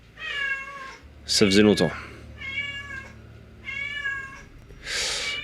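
Cat meowing in the dungeon-crawling video game Darkest Dungeon, several drawn-out tonal meows spaced about a second apart, with someone speaking French briefly in between.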